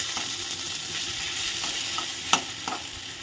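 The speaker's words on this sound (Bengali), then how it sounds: "আর এখানে কড়াইতে হচ্ছে কচু শাক।" Taro greens with chickpeas frying in a wok give a steady close sizzle, broken by a few scraping stirs and one sharp clack of a utensil.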